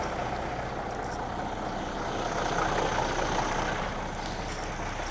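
A truck engine runs steadily at close range, a constant low rumble with broadband noise that holds an even level throughout, no voices over it.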